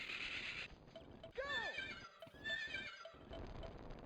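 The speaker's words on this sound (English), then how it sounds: "It's a dog kennel, it makes horse noises." In the video game Rayman Revolution, a dog kennel lets out a loud, clear horse whinny that rises and then falls away. Lighter clopping and ambient game sounds surround it, along with a brief muffled break.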